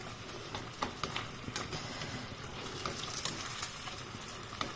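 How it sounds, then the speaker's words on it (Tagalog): Pork steak fries in a pan with a continuous crackling sizzle and scattered pops, heard up close and fairly quiet. "Nag-pork steak lang po ako."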